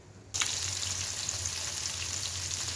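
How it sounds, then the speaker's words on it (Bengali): Pieces of large rohu fish frying in mustard oil, seasoned with salt and chilli powder; after a brief quiet moment a loud, steady, close sizzle starts and holds evenly to the end, with no talking. "লবণ, মরিচের গুঁড়ো দিয়ে ভেজে নিচ্ছি সরিষার তেলে।"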